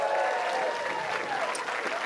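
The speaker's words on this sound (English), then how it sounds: "big round of applause for my mom for coming out" Steady applause from a live audience at a comedy podcast taping, continuous clapping at an even, fairly loud level throughout.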